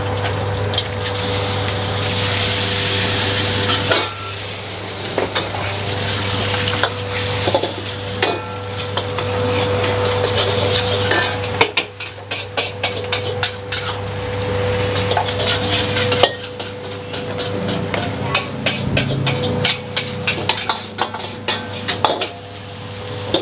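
Sausages fry and sizzle at a busy food stall kitchen on a Sunday night, a steady loud hiss with stirring, clattering pans and a constant low hum of kitchen equipment underneath.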